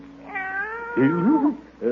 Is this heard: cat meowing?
yes